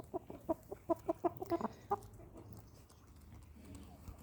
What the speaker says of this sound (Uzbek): Buni bemalol davrada o'ynasa bo'laveradi, yaxshi xo'roz.